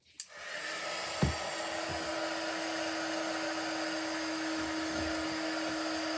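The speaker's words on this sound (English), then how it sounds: "Now I'm just going to switch my heat gun on, which I hope it won't be too noisy." A heat gun switches on for craft work, heating stamped embossing powder, and runs as a steady continuous blowing whir with a low hum. It sounds close and fairly loud, with a couple of faint clicks near the start and no talking.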